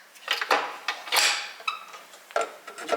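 Sourdough discard cookie dough with brown butter and chocolate chunks being mixed in a bowl: irregular clinking and scraping strokes of a utensil against the bowl, close and moderately loud, with short pauses between bursts and no talking.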